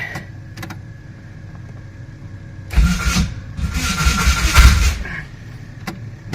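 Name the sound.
Hillman Imp engine cranking, failing to start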